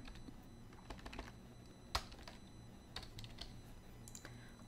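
Computer keyboard keystrokes while working in Photoshop, a handful of quiet, scattered clicks with one sharper press near the middle, over a low steady hum, no voices.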